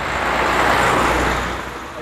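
A steady wash of road traffic, cars rolling past close by in a continuous loud rush that swells and eases slightly.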